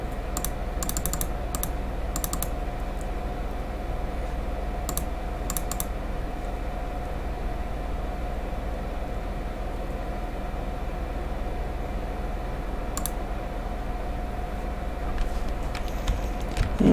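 Computer mouse clicking through MapleStory NPC dialogue: short clusters of quick, crisp clicks at irregular intervals over a steady background hum, close and fairly faint.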